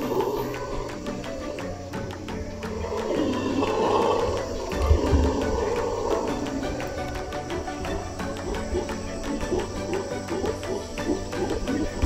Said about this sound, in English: I believe they're howler monkeys, but they sound way different than I've ever heard before.